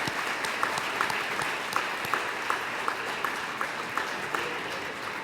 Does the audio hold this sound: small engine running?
no